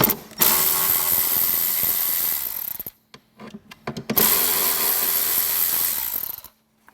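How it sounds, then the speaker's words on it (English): A powered driver removes two T15 Torx screws from a Harley-Davidson saddlebag fitted with Boom Audio Stage 2 speakers. It runs in two close, whirring bursts of a few seconds each, separated by brief clicks and handling noise. "Remove these 2 T15 Torx."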